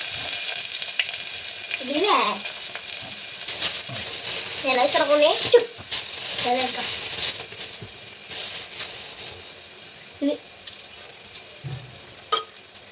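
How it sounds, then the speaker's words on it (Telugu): Onion sizzles and fries in hot oil with cumin and mustard seeds, a steady close crackle with occasional stirring, while someone talks over the cooking. "జీలకర్ర ఆవాలు వేసిన తర్వాతకి కొంచెం ఆనియన్ వేసేసి"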